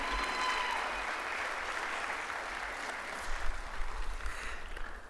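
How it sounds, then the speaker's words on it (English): An audience at a college Founder's and Honors Day convocation claps steadily throughout, a dense even applause from a large hall crowd that swells slightly near the end. "So let's give them a round of applause one more time."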